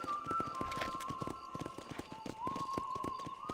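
Horse hooves clip-clopping at a steady trotting rhythm in Red Dead Redemption, with a sustained tone and game ambience underneath.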